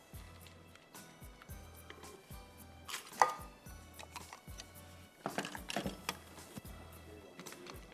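A knife chopping bread slices on a board in a home kitchen while making a wedding pudding: a run of steady, close, rhythmic thuds and taps, with a few louder clustered cuts toward the end, no voices.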